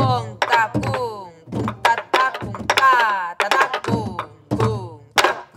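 Voices chant a traditional Korean buk drum rhythm in syllables during a lesson, quick bursts with short pauses. A voice imitates the drum strokes, and any actual drum is not clearly separable from the chanting.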